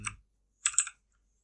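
Short bursts of key clicks on a computer keyboard while someone edits in a terminal, two brief clusters separated by a pause, close and fairly quiet.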